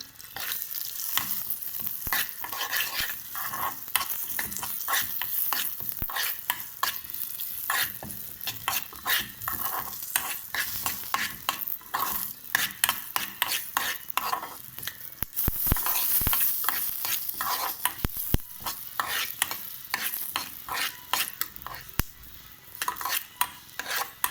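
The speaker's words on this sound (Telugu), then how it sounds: "1 స్పూన్ ఆయిల్ వేసుకుని నువ్వులు 2 టేబుల్ స్పూన్ నువ్వులు ఫ్రై చేసుకోవాలి" Two tablespoons of sesame seeds fry in about a spoonful of oil in a pan for pudina chutney, giving a steady close crackle and sizzle broken by frequent sharp pops and spoon scrapes against the pan, with no voices.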